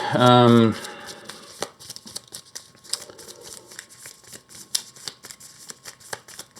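A deck of cards for the Earthborne Rangers board game is shuffled after a brief voice, with rapid crisp riffling and papery flicks continuing at a steady close pace.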